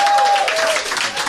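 Dense crowd applause from a live podcast audience, a steady broadband wash of clapping hands throughout, with a voice speaking over it.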